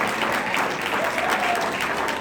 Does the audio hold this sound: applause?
yes